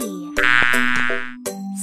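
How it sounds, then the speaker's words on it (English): A cartoonish bee buzz sounds for about a second, loud and steady in a children's alphabet tracing lesson, followed by a short bright tone. No one speaks over it. "B is for bee."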